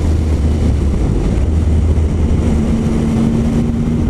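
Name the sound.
Triumph Speed Triple R motorcycle engine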